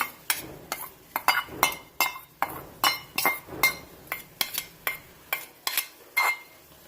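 Finely chopped cabbage is added to a glass bowl for coleslaw, bringing a quick irregular series of bright clinks and knocks of utensils against glass, close and clear with no talk.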